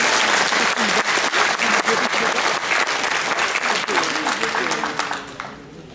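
An audience at a seniors' lunch in Ceyzériat claps loudly and steadily for a performer, a dense crowd of close hands that fades toward the end.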